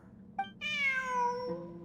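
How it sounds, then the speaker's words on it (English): A cat meows in the Genshin Impact video game: a short chirp, then one long, clear, drawn-out meow that falls gradually in pitch, close and alone, ending in a brief second chirp. "Look, a cat."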